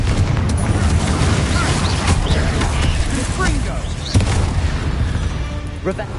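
Blasting spell explosions from a Hogwarts video game, a steady roar of magical bursts with sharp booms, crackles and mechanical clatter layered together, loud and continuous with a few punchier hits standing out.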